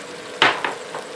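Browning ground meat is stirred through black pepper in a hot pan over high heat: two or three quick scraping strokes cut across a low, continuous sizzle.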